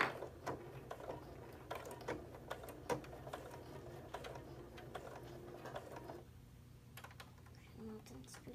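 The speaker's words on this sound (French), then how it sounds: "Lorsque l'on commence à coudre, il faut surtout pas oublier de faire l'avance recul." A sewing machine stitches forward and then reverses to lock the seam, a steady mechanical patter of needle strokes that carries on with short pauses, heard close up with speech over it.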